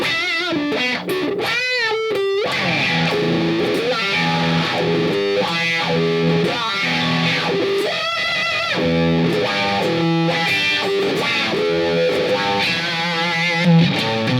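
An electric guitar played through a distortion pedal and a boost pedal, set up to mimic fuzz, then swept with a wah pedal, rings out alone in thick, gritty riffs and sustained notes with sweeping vowel-like tone changes.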